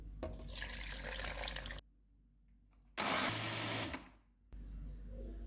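A kitchen blender grinds soaked almonds with a cup of water into paste for almond sherbet, whirring loudly in two bursts separated by about a second of silence, followed by a third, quieter run.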